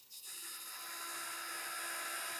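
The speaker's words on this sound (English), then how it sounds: "as I'm drilling, you can see the drill bit kind of flexing." A small drill whines steadily at high pitch as it bores holes in a model train carriage, close and continuous after a brief start, with no talk.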